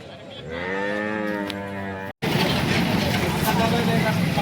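A cow lows loudly in a long, harmonic moo at a busy Sangola cattle market, followed by a dense wash of crowd and vehicle noise with voices talking nearby.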